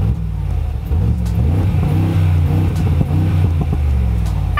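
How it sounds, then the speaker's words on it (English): Mercedes-AMG G63 with a 4-litre bi-turbo V8 revving in Sport Plus mode, close and loud: a deep, throaty rumble that rises and falls through several blips, with no talking. "4-litre bi-turbo V8 engine"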